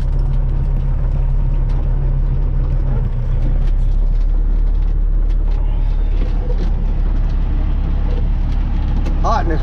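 A Peterbilt truck rolls slowly onto weigh scales over rough ground, its engine rumbling steadily and loudly throughout with low drone, creaks and clanks, and a voice speaking over it.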